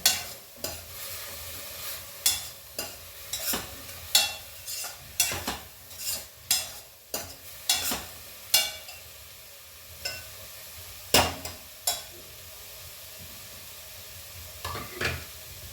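Green peas and mixed vegetables fry in a pan under a low sizzle, punctuated by a regular series of sharp spatula scrapes and clinks against the metal, close by, with no voices.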